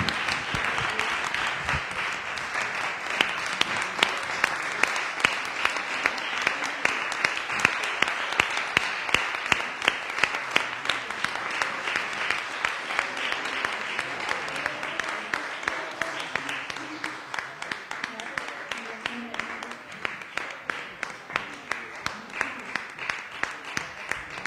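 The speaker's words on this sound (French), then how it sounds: "Je pense qu'on peut applaudir pour sa brillante carrière." Sustained applause fills a municipal council meeting for a retiring staff member. Dense clapping from the room continues for over twenty seconds and grows into louder, rhythmic unison clapping toward the end.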